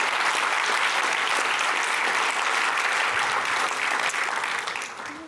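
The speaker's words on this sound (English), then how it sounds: "Let's give them all a big round of applause for that." A large audience at a talks event applauds the speakers, a sustained, dense wash of clapping that holds steady and then begins to fade toward the end.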